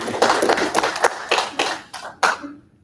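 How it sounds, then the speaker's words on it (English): Short burst of hand clapping from a small group at a veterans' legion meeting, close and uneven, with a few distinct louder claps before it tapers off. "we all deserve to give our leadership team and the members that participated in all these activities a big round of applause"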